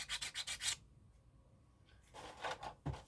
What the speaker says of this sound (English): you can just get a sanding block, but just be careful that you don't sand all your